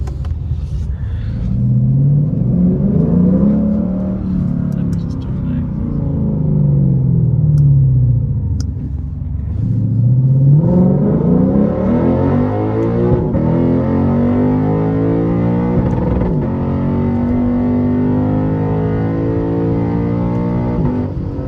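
A 2024 Lexus IS500 V8 engine revs up loudly and accelerates, pitch rising through gear changes, dipping briefly, then climbing again in a long sustained pull.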